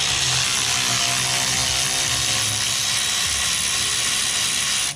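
A ratchet works on a 2013 Honda F6B Goldwing motorcycle during tire removal, giving a continuous loud clicking and whirring that runs for about five seconds before stopping abruptly.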